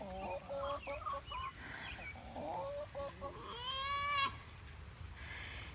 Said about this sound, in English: the chickens were not being quiet today. They're out here hollering and screaming.